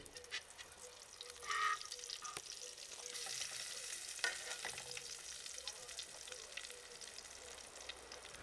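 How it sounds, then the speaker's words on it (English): Frittelle ubaldine, medieval flower-and-herb pancakes, fry in a pan in pork fatback or olive oil with a steady, quiet, fine sizzle. Near the two-second mark a brief clatter or squeak cuts through. "We cook the frittelle ubaldine for 2 minutes, then we flip and cook them for about 1 minute."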